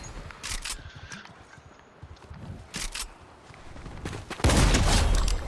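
Gunshots in the video game Fortnite, with sharp cracks scattered over several seconds and a louder burst near the end, set against game ambience and movement sounds.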